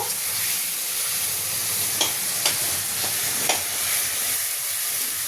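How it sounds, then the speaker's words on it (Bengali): Tomatoes cooked with ginger in a frying pan for a vegetarian tarka are mashed with a metal spatula: a constant loud sizzle with four evenly spaced scraping knocks in the middle. "টমেটোগুলোকে খুন্তি দিয়ে ম্যাশ করে নেব।"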